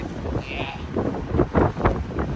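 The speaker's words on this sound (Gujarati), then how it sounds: "અહીંયા રે ઊભી ત્યારે ખબર પડે પવન એટલો હોય" Strong wind blows across Vanakbara fishing harbour, buffeting the microphone in a continuous rough rumble, with muffled voices and harbour noise mixed beneath the gusts.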